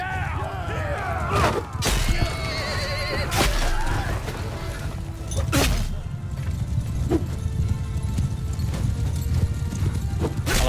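Horse hooves clattering in a Mount & Blade II Bannerlord battle, a busy clip-clop of several mounts with sharp impacts and occasional whinnies over a battle din, a voice talking at times.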